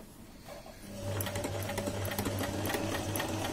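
A semi-automatic sewing machine stitches a buttonhole with its matching foot, starting quietly and then running steadily in a fast, even mechanical whir with rapid needle clatter, close and alone.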